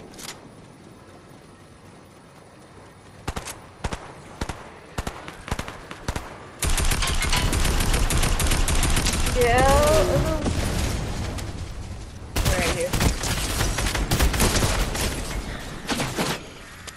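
Fortnite gunfire in a duo match: scattered single shots give way to sustained, dense automatic bursts that rattle on for several seconds, pause, then resume, with people talking over the fighting.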